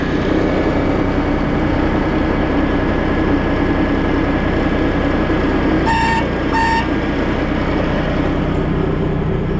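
A tractor engine straining as it tries to lift a heavy implement on an abandoned farm, a loud continuous droning roar with two short high beeps partway through.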